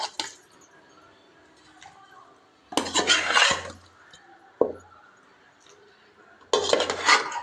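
Pieces of sardine and tilapia fish coated in salt and turmeric tipped into a pot of fish curry, with two bursts of clattering, scraping vessel noise and a sharp clink between them, close up with no speech.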